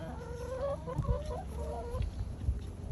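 Chickens cluck softly in a garden bed, several short murmuring clucks heard at moderate distance alongside scattered low thumps and outdoor background noise.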